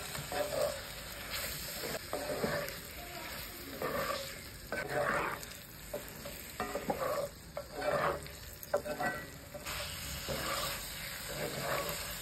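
Potatoes, peas and slit green chillies sauté in a pan with a quiet, steady sizzle and hiss, broken by repeated scraping stirs at an uneven rhythm; no talking.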